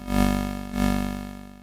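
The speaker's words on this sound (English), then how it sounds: "And then we can go ahead and add some white noise in on top of that." Two 8-bit synth stabs, each with a slow attack fade-in, one after the other with a layer of white noise hissing on top, decaying gradually and heard alone.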